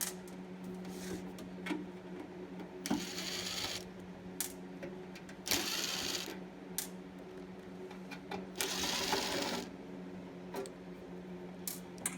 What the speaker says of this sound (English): undo all these screws. There's about 12 of them. Undo them all.